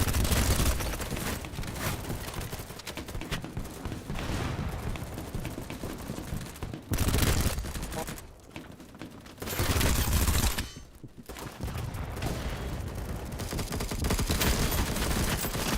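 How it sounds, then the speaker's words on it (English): Sustained gunfire in the Battlebit shooter game, with dense rattling bursts running almost continuously and a few short lulls between volleys, loud and close, with no talk over it. "he's definitely shooting at people"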